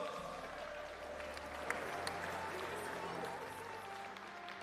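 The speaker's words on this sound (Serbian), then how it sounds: "Veliki aplauz!" Audience applause at an armwrestling supermatch event, steady clapping from a crowd heard at moderate distance, with a low hum and murmur of the hall underneath and no one speaking over it.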